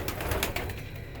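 Pet pigeons kept in a studio on square perches coo softly in a close, low murmur, several throaty calls overlapping for a moment with no voices.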